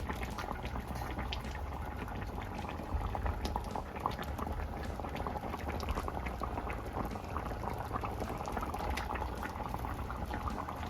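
Fish curry simmering and reducing in a pot, a steady close bubbling and hissing boil that continues evenly throughout with no talk.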